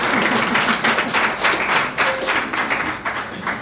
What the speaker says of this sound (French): Applaudissez quand même pour Parakou.